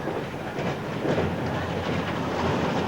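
Exhaust beat of a New South Wales 32 class steam locomotive heard from close to the engine, a steady rushing chuff with rhythmic pulses under wind and rail noise, continuous and fairly loud.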